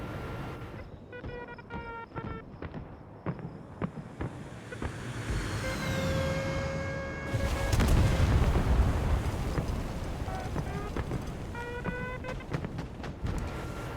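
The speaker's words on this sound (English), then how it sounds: "Now, we are taking a little bit of flak, and it is getting a little too close for comfort" Anti-aircraft flak bursts in IL-2 Korea thud as repeated muffled booms under a steady jet engine drone and wind-like roar, with several separate explosions spread through the flight and no talking.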